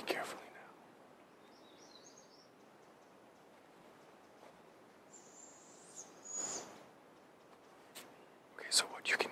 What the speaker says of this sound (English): what you can hear in the background there are fledgling barred owls sitting right over here